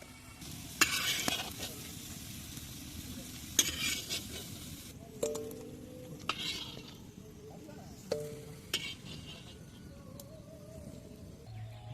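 Potatoes fry in leftover egg-frying oil for a village-style egg pulao, sizzling steadily while a utensil stirs and scrapes the pan in sharp, intermittent clinks.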